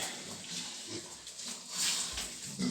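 A pig grunts and snuffles quietly nearby, a few soft irregular grunts over faint background rustling.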